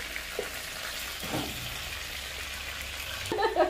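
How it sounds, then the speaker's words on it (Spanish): Minced garlic sizzles in a hot pan while chicken with potatoes is being cooked, a steady close frying hiss with a few stirring scrapes and a louder crackle near the end. "Vamos a echarle el ajo."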